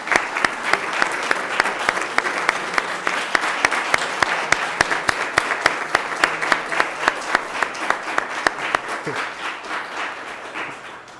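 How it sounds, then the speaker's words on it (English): Graduation guests give participants another round of applause, a steady roomful of clapping with a few sharp, close claps standing out rhythmically above the crowd, gradually thinning toward the close. "Let's just give all of our participants another round of applause."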